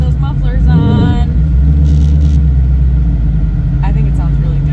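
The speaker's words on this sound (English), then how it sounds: "the car definitely sounds louder without those mufflers on" A Whipple supercharged Mustang V8 runs without mufflers, a deep, heavy rumble close by, with a person talking over it.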